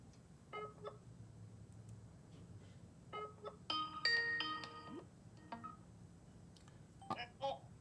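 Phone dialing tones from a Skype call, heard as a series of short, quiet beeping tone bursts in uneven clusters, with a denser run of layered tones near the middle and faint background sound between them.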